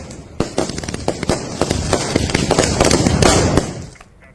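Fireworks at a Dahi Chura feast crackle and bang in quick succession, a dense barrage of loud bursts that fades out at the end.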